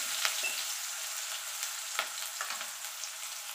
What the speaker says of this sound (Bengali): এখানে পেঁয়াজটা আমার ভাজা ভাজা হয়ে গেছে